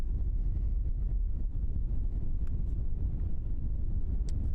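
Strong nor'wester crosswind gusts buffet the microphone at Christchurch airport, a loud, dense low rumble of wind with faint brief clicks and no speech.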